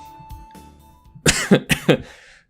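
A burst of four quick, close coughs in a row, loud and close, following a stretch of low background noise.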